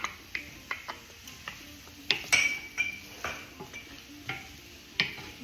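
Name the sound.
mixing carrots and Brussels sprouts with olive oil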